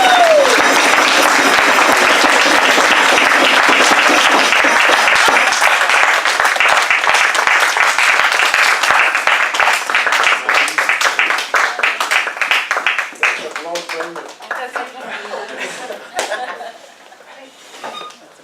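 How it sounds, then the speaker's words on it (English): Loud, dense applause from a meeting audience greets the winner of an international speech contest, sustained for over ten seconds before thinning into scattered claps and fading out. "please welcome to the front, with loud applause, Mandy Murray."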